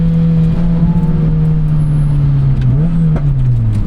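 A 2006 Lotus Elise drives with a steady, loud engine drone heard from inside the car. The pitch dips and climbs again during a gear shift near the end.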